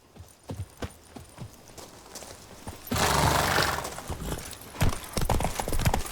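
Roach, the horse in The Witcher 3, clops along in a steady hoofbeat that swells into a louder, denser gallop midway, rhythmic thuds continuing to the end with no talk.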